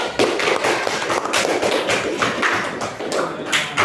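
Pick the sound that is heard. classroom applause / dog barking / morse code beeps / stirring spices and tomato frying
classroom applause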